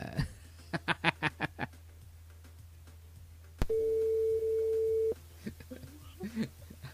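Telephone busy signal during a call-back on a live French-language radio show, a string of short evenly spaced beeps, then a sustained steady tone after a click, fairly loud and clear, with faint background voices near the end.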